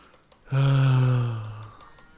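A single long, low cow moo in a farming video game rings out loud and steady for over a second, then fades, with no talking.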